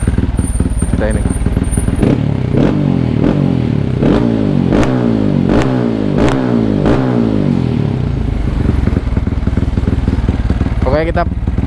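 A Yamaha WR155R with a Norifumi exhaust revs up about six times in quick succession at close range, each throttle blip rising and falling over a loud, rhythmic idle that settles back down afterward.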